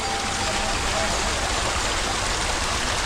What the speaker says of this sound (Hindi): जड़ों से पानी निकलता है